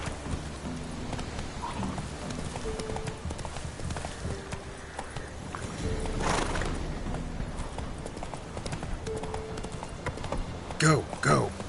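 Geralt's horse Roach gallops in The Witcher 3, a rapid rhythmic clip-clop of hooves running under game music and a voice, with a brief sharp whinny near the end.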